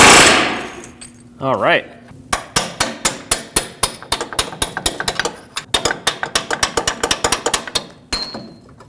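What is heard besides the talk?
hammering a chisel to separate a washer pressed onto splines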